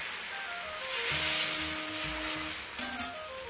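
Ragi dosa batter cooking on a hot pan gives a steady, fairly loud sizzle and frying hiss, close and continuous, with faint clinks, in a South Indian home kitchen making a healthy dinner.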